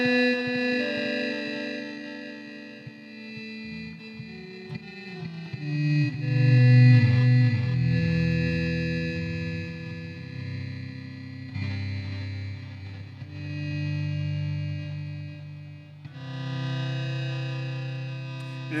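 Heavily crushed, distorted synth tones from a Meris Enzo X pedal, sustained buzzy notes with warbling chorus-like modulation and echo tails, shifting pitch in slow phrases at a fairly loud level.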